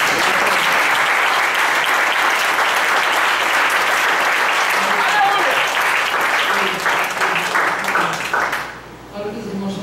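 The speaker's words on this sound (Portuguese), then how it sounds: "Aplauda o Senhor." A church congregation claps together in sustained, dense applause for almost ten seconds, loud and steady before thinning out sharply near the end.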